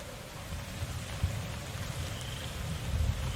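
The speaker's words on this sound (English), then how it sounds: "When you've got rain coming down now, it's so cool." Rain falls in the survival video game Survive the Nights as a steady, dense hiss with soft low patters, fairly loud and continuous, with no voices.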